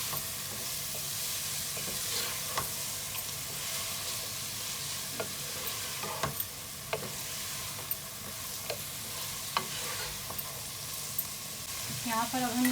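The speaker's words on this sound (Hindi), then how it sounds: "इसमें मिक्स करते हैं आपस में और भुनाई करते हैं इनकी अच्छे तरीके से" Chicken and vegetables sizzle and fry in a pan as they are stirred, a steady hiss broken by regular scrapes and clicks of the spoon, close and continuous.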